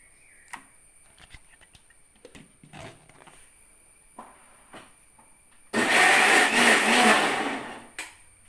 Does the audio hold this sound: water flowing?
no